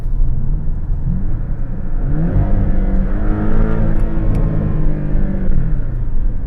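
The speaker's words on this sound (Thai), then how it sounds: "ท่อก็จะเปิดนะครับ วาล์วก็จะเปิด แล้วก็เสียงท่อก็จะดังขึ้นมา" Porsche 718 Boxster with sport exhaust valves open, a loud, steady engine drone and rumble that swells gently mid-stretch, heard close with no voices.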